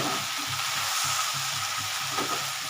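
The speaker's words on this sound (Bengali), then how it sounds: "ভাজা ভাজা পোড়া পোড়া হচ্ছে একটুখানি" Mourala fish with mixed vegetables frying and charring in a pan, a steady close sizzle with soft scraping stirs and small crackles running throughout.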